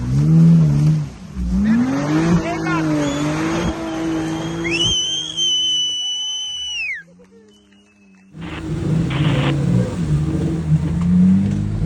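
Off-road car engine at a trophy challenge event revving hard and rising in pitch, with a high whining squeal, a brief quieter lull, then the engine roaring loudly again up close.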